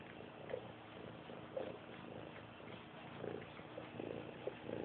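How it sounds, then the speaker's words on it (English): A soft, continuous rumbling purr close up, steady and low with faint rhythmic pulses, quiet overall. "Listen to that purr."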